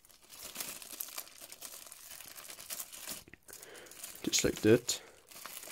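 A protective plastic cover is pulled off the power cable plug of a Benross 3000 Watt industrial fan heater, giving a short crinkling, tearing burst near the end while someone talks.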